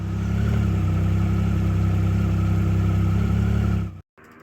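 A Triumph Speed Triple 1050 S motorcycle idles steadily after an oil and filter change, its close, loud, even engine hum continuing for about four seconds before cutting off abruptly into near silence.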